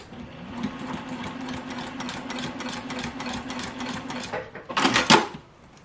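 Ricoma EM101 embroidery machine stitching a fabric placemat pouch closed, a fast rhythmic mechanical chatter running steadily for several seconds, then a brief louder clatter before stopping.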